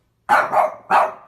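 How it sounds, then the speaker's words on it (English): A dog barks three times in quick succession, sharp and close, the last bark slightly separated from the first two. "Dog."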